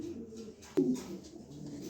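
Pigeons coo at close range in a low, soft murmur, with one brief louder call standing out over a steady background.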